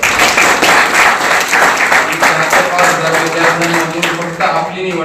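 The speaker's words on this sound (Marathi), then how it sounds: "सगळ्यांनी एकदा स्वतःसाठी जोरदार टाळ्या वाजवा." An audience at a Rajyoga meditation talk breaks into loud, sustained applause, a dense wash of clapping that fills the whole stretch with faint voices rising beneath it toward the end.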